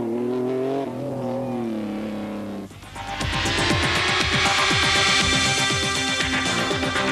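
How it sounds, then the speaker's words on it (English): Rally cars pulling away from a Paris-Dakar desert stage start in 1998, engines idling at first, then loud, throbbing revs and acceleration swelling as several cars rev hard and drive off close by. "And off they set this morning, getting away for the start of just about 150 miles of competitive driving."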